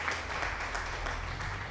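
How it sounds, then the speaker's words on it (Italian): Brief, steady applause from a group, a dense wash of clapping at moderate volume with no talking over it. "E facciamo pure un applauso"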